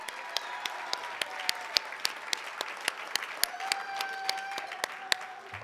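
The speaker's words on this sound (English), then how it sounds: "Let's give Tim another big round of applause for opening up our luncheon in such an inspiring way" A luncheon audience claps steadily for a few seconds, with sharp individual claps standing out over the dense patter and a faint voice beneath.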